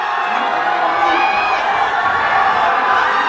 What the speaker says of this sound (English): Crowd cheering Malo to get back on again, give it another go